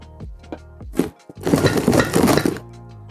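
Loose bricks rattling and clinking inside a shaken shipping box: a few sharp knocks, then about a second of dense, loud clattering and grinding, heard alone.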